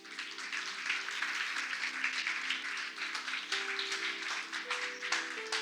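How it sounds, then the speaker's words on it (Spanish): Congregation applause during a church service, a steady patter of many hands clapping at moderate distance, with sustained musical tones underneath throughout. "Dale un aplauso al Rey."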